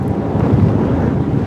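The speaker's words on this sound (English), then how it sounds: "It's getting a bit windy." Strong wind buffets the microphone on a pump foiling session, a continuous low, rumbling roar with no other sounds.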